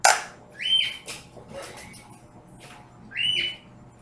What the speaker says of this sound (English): We have a bird too.